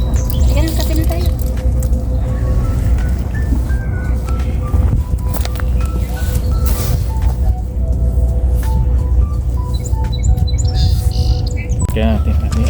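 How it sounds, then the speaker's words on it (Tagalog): Birds chirp and tweet repeatedly outdoors at Scarborough Bluffs, bright calls layered over a loud steady background rumble, with people talking nearby. "Yung mga ibon oh."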